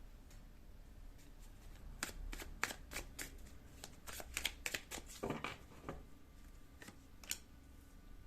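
Tarot cards being shuffled by hand during a card reading, a series of quick, close riffles and flutters in uneven bursts over a quiet background, with no talk.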